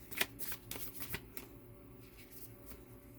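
A tarot deck being shuffled by hand, a dense riffle of flicking cards at the start that thins into softer sliding and tapping, close and with no talk.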